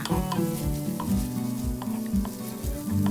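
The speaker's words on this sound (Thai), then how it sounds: "จากนั้นเราก็ผัดให้เข้ากันค่ะ" Chinese-style egg noodles are stir-fried with dark soy sauce, giving a steady close sizzle. A spatula scrapes and tosses against the pan in a regular rhythm.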